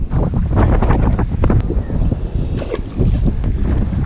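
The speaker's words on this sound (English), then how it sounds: "the wind is not stopping" Strong wind roars steadily and loudly across the microphone during bank fishing, with no talking and only brief gusting dips.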